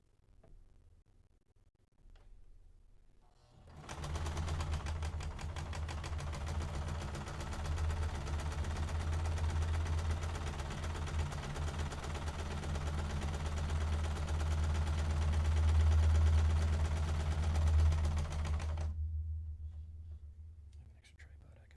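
A sewing machine stitches a fabric face mask in one continuous run of about fifteen seconds, a close, steady mechanical whir with a fast rhythmic tick. Quiet rustling comes before and after, and soft voices are heard.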